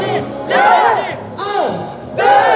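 A French live-show audience shouts back at the host in call and response, three loud group bursts of mixed voices yelling in unison with short gaps between them.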